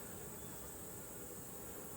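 Italian honey bees swarm around an opened hive, a dense, constant buzzing drone that fills the space evenly and softly, with no voices.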